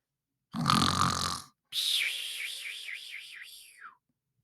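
A cartoonish snore: a rough rasping inhale followed by a long wobbling whistle on the exhale, close and clear against silence.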